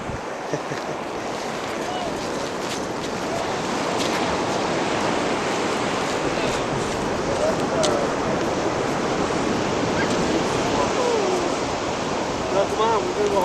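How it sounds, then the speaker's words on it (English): Ocean surf on a beach a few yards off gives a steady, soft wash of breaking waves under light wind, continuous and moderately distant throughout. "the ocean is a few yards away"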